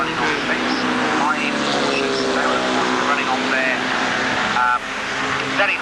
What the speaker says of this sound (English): Cars coming out on their green flag lap